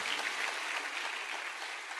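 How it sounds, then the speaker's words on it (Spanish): Church congregation applauding during a sermon, producing a dense, even wash of clapping from many hands, heard at moderate distance. "Dele un aplauso al Señor"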